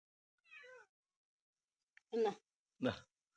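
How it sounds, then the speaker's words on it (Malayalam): A cat meows three times close by, a drawn-out cry first, then two shorter, louder meows after a pause. "പൂച്ച ഇരുന്ന് കരയുന്നു"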